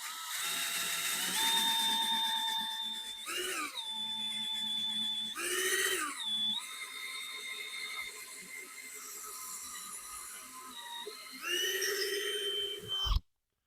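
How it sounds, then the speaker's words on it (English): A power drill whines steadily as it bores through cedar wood, its pitch dropping and surging several times under load before stopping abruptly. "try to hold it the best I can and drill through"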